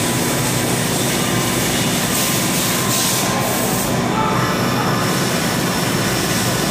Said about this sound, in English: Spindle speed, 500 RPM.